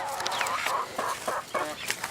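Backyard chickens, hens kept with a rooster, cluck in short repeated bursts at moderate distance, fairly soft and steady for a couple of seconds.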